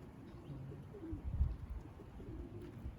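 Pigeons in a racing pigeon loft coo softly and repeatedly, a few low murmuring calls overlapping against a faint background hum.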